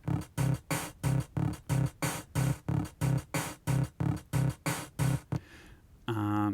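Bright, buzzy 8-bit Game Boy Advance noise-channel hits in a fast, steady rhythm, then a short hiss and the start of a square-wave tone at the end.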